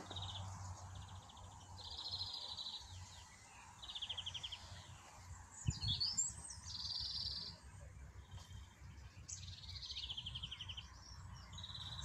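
A blackbird sings outdoors, with several chirping calls and melodic phrases at moderate distance, over a low steady hum of background noise.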